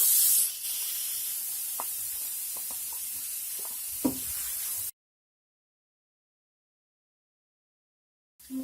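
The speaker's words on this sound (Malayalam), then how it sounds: "എണ്ണ ചൂടായിട്ടുണ്ട്. ഇനി നമുക്ക് അതിലേക്ക് അരിഞ്ഞു വെച്ചിരിക്കുന്ന സവാള ചേർത്ത് കൊടുക്കാം." Chopped onions tipped into hot oil for egg biryani, a bright steady hiss with a few soft knocks, cutting off abruptly into silence before a brief sizzle returns at the end.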